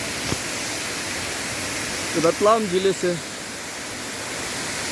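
Water streams pour steadily at Devjhar waterfall, a broad continuous rushing hiss under a brief spoken phrase.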